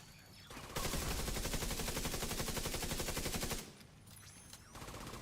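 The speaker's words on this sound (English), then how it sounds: "I always hate shooting these guys up out of there" Sustained automatic gunfire in The Division 2 rattles loudly and continuously for about three seconds, then cuts off and leaves quieter ambient game sound with a few faint clicks.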